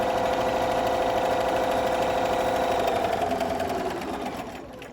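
A sewing machine runs steadily while stitching a rolled hem, a continuous close mechanical whir that holds even for several seconds before slowing and fading near the end.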